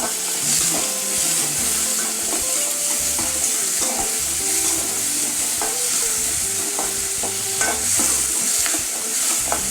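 Onions sautéing in a pan for a Tamil brinjal kulambu, a steady close sizzle with frequent scraping and stirring clinks of a spatula against the metal, no voices.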